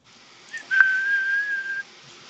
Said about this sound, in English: Look at the way he's whistling.